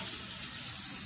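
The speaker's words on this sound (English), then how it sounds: "The tap water." Tap water pours from a faucet in an old Swedish summer house, producing a steady, close hiss of running water that lasts a brief moment with no talking.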